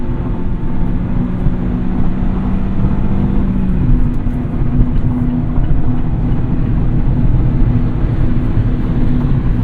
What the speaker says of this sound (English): Now I got to talk louder to compensate for the road noise that we're hearing